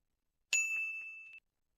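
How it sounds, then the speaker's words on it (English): A single bright notification bell ding rings out cleanly and sustains for nearly a second before cutting off, alone in silence. "I went through the whole gambit of all the little dinger bells there. I forgot that I had that sound effect."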